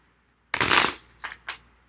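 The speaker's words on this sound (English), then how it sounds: "I'll shuffle it a couple times" A deck of playing cards is shuffled close by: one loud riffling burst of about half a second, followed by two shorter, softer flutters as the cards are squared.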